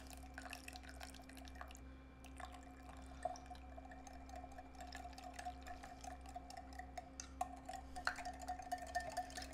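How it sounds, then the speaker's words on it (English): Hot milk streamed slowly into egg yolks under steady whisking for a banana pudding custard: faint dripping and pouring with light scattered ticks over a constant low kitchen hum, no voices. "take the hot liquid, whether it's milk or something else, and stream it in as you are whisking"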